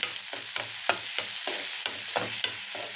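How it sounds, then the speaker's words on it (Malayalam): Onion sautéing in hot oil with mustard seeds for a simple lunch dish, a steady close sizzle broken by repeated scraping strokes of a spoon stirring the pan at a regular rhythm. "സവാള കട്ട് ചെയ്ത് ഇടാം നല്ല വഴറ്റി കൊടുക്കാം"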